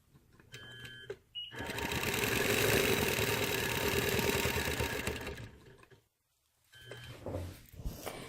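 A quilting machine stitches a design on a quilt, its motor whirring in a loud, fast, steady run that swells and fades, stops briefly, then starts again near the end.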